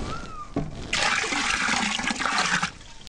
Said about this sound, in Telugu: ఈ 10 లీటర్ల మూత్రం కూడా ఇందులో కలపాలి.